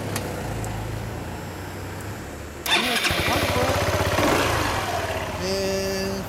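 A 2017 Yamaha Majesty S 155 scooter, in fully stock condition, cranks and fires up partway through, then settles into a steady, close idle with a brief rise in revs toward the end.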